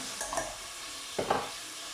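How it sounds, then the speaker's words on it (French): Onion and tomato frying in oil in a pan, a soft steady sizzle with two brief scraping stirs of a spoon, close and fairly quiet. "je vais mettre l'oignon et la tomate. Voilà, je vais faire revenir."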